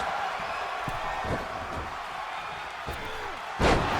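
A wrestler is slammed onto his back in the ring during a TNA Genesis 2025 title match, a thudding impact that rings out over a steady roaring arena crowd.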